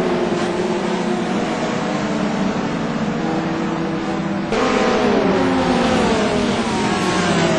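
Engines of GRC Trophy race cars howl as the pack accelerates off the line into turn 1 at a race start. The loud, steady roar climbs in pitch, with a sharp shift midway as the cars pass close by.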